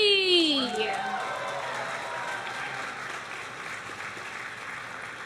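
An audience at a cosplay contest claps and cheers for a costumed group, a sustained burst of mixed applause filling the hall while an announcer's amplified voice speaks over the start.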